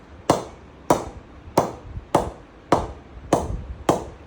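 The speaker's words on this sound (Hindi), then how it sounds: "आप बैट की आवाज़ सुने सिर्फ, कितनी भरी हुई आवाज़ आ रही है कहीं से भी।" Seven sharp knocks of a ball tapped against an English willow cricket bat with close-knit grains, evenly spaced about every 0.6 seconds, close up and crisp with short ringing decay, no talking.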